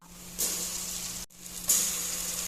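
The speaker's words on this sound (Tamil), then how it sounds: "இஞ்சி பூண்டு சேர்த்ததுக்கப்புறம் அதோட பச்சை வாசனை போகிற அளவுக்கு நல்லா வந்து வதக்கிங்க" Ginger garlic paste sautéing in a pan for chicken gravy gives a loud, steady sizzle that flares sharply twice as it hits the hot oil, with no talking.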